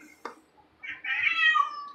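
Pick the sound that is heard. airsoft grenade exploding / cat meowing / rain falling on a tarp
cat meowing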